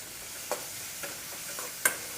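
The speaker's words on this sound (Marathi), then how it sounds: "तेलामध्ये कांदा थोडा परतून घ्यायचा." Chopped onion sautéing in oil on a tava for a bread sandwich, a soft steady sizzle with a few light spatula scrapes and taps against the pan, close and fairly quiet.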